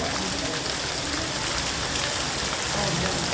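Steady downpour in Wankaner hisses without a break, rain drumming on hard surfaces and running water mixed in.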